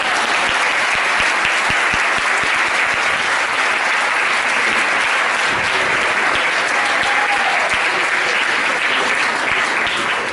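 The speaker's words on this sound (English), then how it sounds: "And another applause for the wonderful jumping from the ladies." A comedy club audience delivers loud, sustained applause after a stand-up act, a dense wash of clapping that holds steady for about ten seconds with no talk over it.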